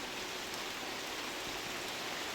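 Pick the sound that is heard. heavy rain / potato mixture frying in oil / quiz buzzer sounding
heavy rain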